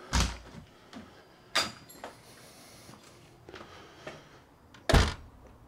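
A home's front door being opened, heard as a series of separate thuds and knocks from the handle and frame, with the loudest bumps at the start, middle and end, close by with no talk.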